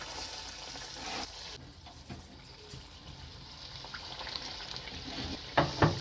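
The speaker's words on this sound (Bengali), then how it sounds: "এবার চপটা ভাজা শুরু করব" Aloo chop potato fritters dipped in besan batter frying in a kadai of oil, a quiet, uneven sizzle with soft bubbling and a couple of sharper pops near the end, no voices.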